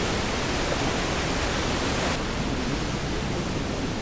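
Mapalyao Falls in Buliwao, Quezon, Nueva Vizcaya, roars as a steady, dense wash of falling water, loud and unbroken throughout with no voices.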